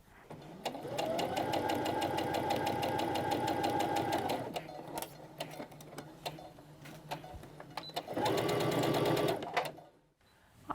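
A sewing machine stitches across the lining side of a grocery tote's shoulder strap. It runs in two steady, close, mechanical bursts, the first about four seconds long and the second shorter, with a quiet pause between them.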